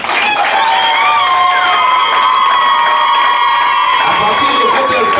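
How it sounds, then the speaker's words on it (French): Wedding guests break into loud, continuous applause and cheering right after a couple is pronounced married, with shouts and high whoops over dense clapping that holds steady throughout. "On applaudit s'il vous plaît."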